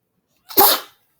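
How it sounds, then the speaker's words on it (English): A single sneeze, close and fairly loud, bursting out sharply and fading within about half a second in an otherwise quiet indoor room. "excuse me, I'm going to sneeze"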